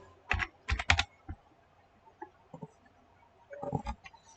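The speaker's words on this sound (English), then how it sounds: "we'll type Excel for construction line" Keys clacking on a computer keyboard while a command is typed during architectural drafting software work, with short bursts of quick keystrokes separated by pauses, close and moderately loud.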